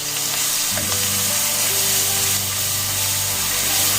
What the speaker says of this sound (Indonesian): Nah, jangan lupa masukkan daun salam dan daun jeruknya juga. Kita aduk.